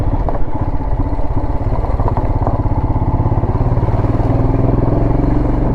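A Royal Enfield Himalayan idles in a traffic jam on the road near Rohtang Pass and Atal Tunnel, its engine thumping loud and steady and close up, with no voices over it.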